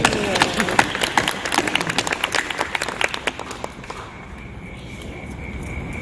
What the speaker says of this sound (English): Give her a loud applause